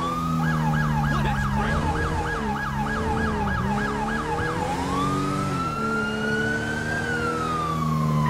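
A police car siren in the LSPDFR game on a downtown patrol wails in a rapid yelp pattern, then switches to a slow rising and falling wail, loud and continuous over a steady engine hum.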